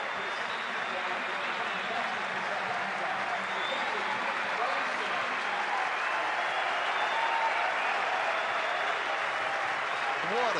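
A Sydney cricket crowd giving a standing ovation at a Test match, with dense, sustained applause and cheering from a large stadium audience, steady and unbroken for the whole stretch.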